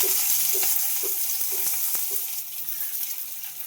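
Sliced onions and green chillies fry in a pan for ghugni, a steady close sizzle and crackle broken by several sharp clicks and scrapes of stirring.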